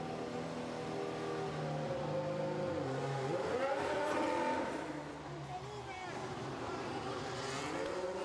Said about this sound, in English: Let's hear the engine roaring.